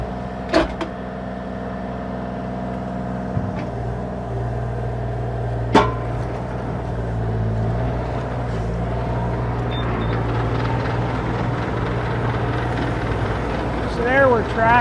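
A 2024 Bobcat E35R2 mini excavator tracks under its own power in two-speed, its diesel engine humming steadily with a low drone, mechanical clanks and a few sharp knocks.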